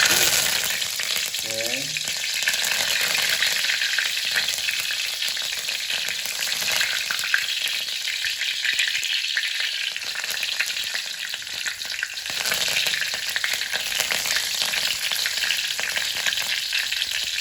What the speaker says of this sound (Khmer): ត្រីចៀនបែប ថ្មីសម្រាប់ខ្ញុំបាទ